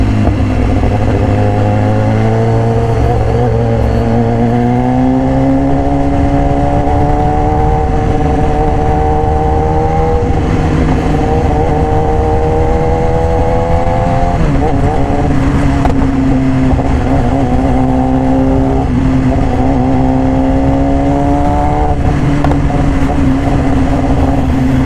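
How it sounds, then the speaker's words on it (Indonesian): A 2018 BMW S1000RR in racing red with an Austin Racing exhaust roars loudly and steadily while being ridden, its engine pitch gliding up and down through repeated throttle changes. "Suara kickbacknya, knalpotnya, letusannya asik bro."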